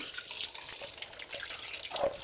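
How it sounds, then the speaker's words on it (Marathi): Cold tap water pours steadily over freshly boiled noodles, making a continuous close splashing rush with no voices. "थोडं थंड पाणी टाकूया याच्यावरती मशीनचं पाणी"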